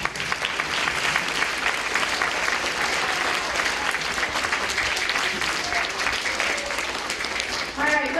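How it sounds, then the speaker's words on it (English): An audience at a school health event in New Hampshire claps in sustained applause, a dense, fairly close patter of many hands, with scattered voices mixed in near the end. "give her a round of applause"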